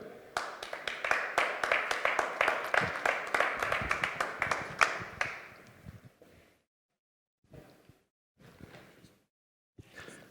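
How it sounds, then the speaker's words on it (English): Applause from a business summit audience in Vienna greeting a panelist: brisk, dense clapping for about five seconds that thins into scattered, separate claps before stopping. "Applause for her"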